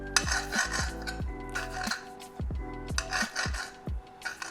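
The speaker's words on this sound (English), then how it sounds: "I like slicing up my sausage at a 45-degree angle" Knife slicing through juicy sausage at an angle on a cutting board while making chicken marsala, a series of repeated crisp chops and blade knocks in an uneven rhythm, close and fairly loud, with no talking.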